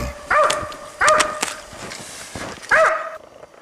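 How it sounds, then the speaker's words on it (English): A hunting dog on the trail of a sable gives four strong, ringing barks in a broken rhythm, clear and moderately close, with quiet pauses between them and no talk. "A good dog has a strong, ringing bark it carries well, as the hunters say."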